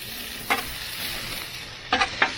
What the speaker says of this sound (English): We're going to make kind of scrambled eggs in there.